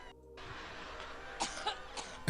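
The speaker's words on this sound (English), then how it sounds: "Oh, she's still coughing?" A woman coughs several times at a distance, the coughs fairly faint and clustered toward the end over a low background hiss.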